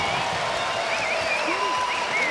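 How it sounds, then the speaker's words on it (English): At a 2011 women's college volleyball match between Hawai'i and Notre Dame, an arena crowd applauds in a steady, dense wash, while a commentator talks over it. "Crowd applauds"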